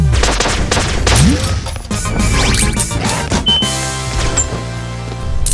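Rapid bursts of pixel-art game gunfire from Flinthook, loud and dense, with clattering impacts, electronic blips and a musical soundtrack, with no pauses.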